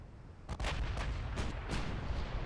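Heavy 13-inch naval guns boom in a naval battle game, several broadband blasts landing in quick succession over a steady low rumble, loud and close with no voices.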